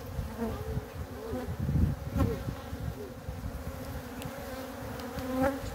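Stressed honeybees buzz continuously at an open hive in Ardahan in October, a dense, steady drone close by with shifting pitch and a few louder swells, heard alone without talk.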